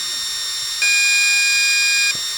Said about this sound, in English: Right, hold it down, wait for the beeps.